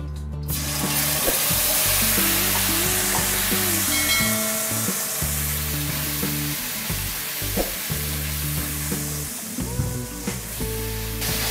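Spice paste dropped into hot oil for a mixed vegetable curry, a loud close sizzle that hisses steadily, with intermittent scraping and stirring clatter of a spoon in the pan, no talk.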